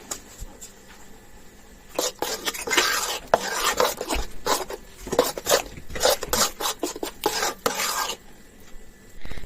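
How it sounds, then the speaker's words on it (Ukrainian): Flour is sifted for Easter bread dough, with irregular scratchy rasping bursts of a sieve being shaken and tapped over a bowl, close up, between quieter pauses. "Борошно я буду присіювати для того, щоб воно насичилось добре киснем"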